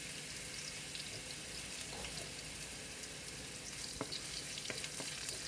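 Organic ginger sautéing in sunflower oil makes a soft, steady sizzling hiss with a few faint scattered clicks, low in level and without speech.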